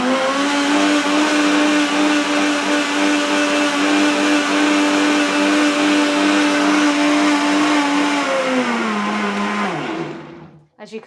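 A FIMEI professional blender runs at high speed with a loud, steady whine and hum that stays even for about ten seconds, then winds down and cuts off at the end.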